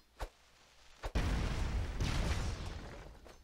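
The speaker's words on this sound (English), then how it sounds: "wherever you place a stick, it will explode" Dynamite stick blasts in the Broforce video game: two short sharp pops, then a loud booming explosion that rumbles on and slowly fades, with no voices.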